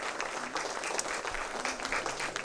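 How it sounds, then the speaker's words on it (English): A forum audience applauds political candidates, with continuous dense clapping throughout, moderately loud and close, with no voices standing out. "Please join me in giving another round of applause to these candidates"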